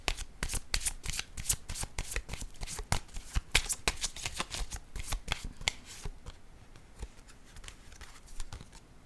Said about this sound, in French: Et je vais piger une carte rose.